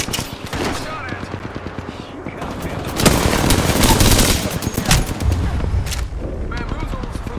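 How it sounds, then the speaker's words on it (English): Gunfire in the video game Apex Legends: rapid automatic bursts and single shots crackle over a busy game mix, with a louder barrage near the middle and in-game voices talking. "Taking fire. Shot at."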